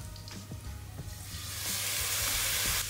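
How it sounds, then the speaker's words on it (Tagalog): Chicken pieces sautéing in a hot pan for Charlie Chan pasta, a bright steady sizzle that swells louder toward the end, with light stirring taps near the start and no talk. "kailangan natin lutuin ang chicken"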